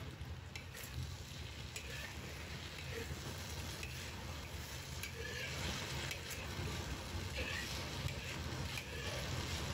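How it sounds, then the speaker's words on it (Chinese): Lotus root slices are stir-fried quickly over high heat in a wok with chili and scallion, making a soft, steady sizzle with faint stirring underneath and no voices. "不要长时间在锅里翻炒，这样炒出的莲藕才不容易变色，脆嫩又好吃。"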